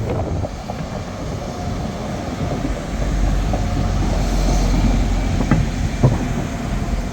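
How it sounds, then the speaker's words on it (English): A train rumbles past close by at Crewe Heritage Centre, a steady heavy roar with rattling wheels and faint clicks throughout, no voices. "Oh, we've got a train coming in."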